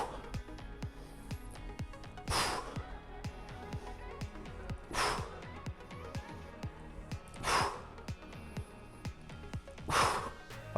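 Heavy, forceful breaths during a kettlebell core workout, four loud gusty exhales spaced about two and a half seconds apart, close to the mic, with faint clicks and a low steady backdrop between them.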